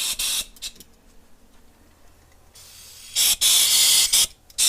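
Short bursts of cleaner hiss out of a car paint spray gun at reduced pressure, two sharp blasts at the start and a longer sputtering burst near the end, separated by near-silence.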